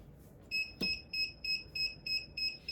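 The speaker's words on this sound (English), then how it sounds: "my timer is going off here" A kitchen-style timer alarm sounds a steady series of about seven sharp, high electronic double-tone beeps, evenly spaced and clear, with a single brief knock near the start.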